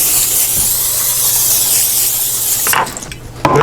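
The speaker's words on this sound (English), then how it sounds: "Spray these up good with some Pam olive oil." A steady, hissing spray of Pam olive oil cooking spray onto potato slices for air frying runs for close to three seconds, then cuts off into quieter clattering and a soft knock.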